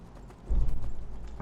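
A horse mount in the Enderal game gallops with quick, heavy hoofbeats that kick in midway, a close rhythmic clip-clop drumming over low ambient rumble.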